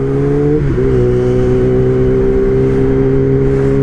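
A Kawasaki ZX10R sport bike engine held at a steady high drone, with a brief dip and wobble in pitch as a gear is missed before the tone settles, loud and close with no talking.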